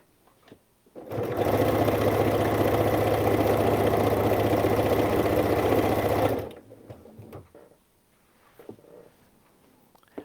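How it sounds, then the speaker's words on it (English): A sewing machine stitches down the side of a soft Minky fabric infinity scarf, running as one steady, loud, humming burst for about five seconds before stopping, with quiet handling noise afterward. "Okay, and I'm just going to sew down the side."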